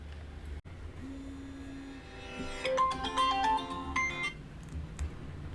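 A phone ringtone plays a rising electronic melody of bright tones, fairly loud, starting after a low hum and a brief click, with no talking.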